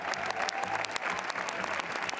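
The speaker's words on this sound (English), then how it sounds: "Voilà donc, longs applaudissements." Sustained crowd applause rises at the Cannes 2021 red carpet, a steady mid-level patter of many hands with no speech.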